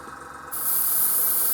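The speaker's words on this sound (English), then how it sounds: "spray these tractors this basic colour" An aerosol spray can puts base colour on miniature tractors, a steady close hiss that begins abruptly after a brief pause and carries on unbroken.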